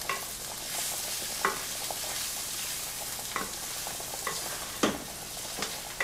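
Food simmers quietly in a pan on low heat. A soft steady sizzle runs throughout, broken by a few brief clinks and scrapes of stirring, and no one speaks.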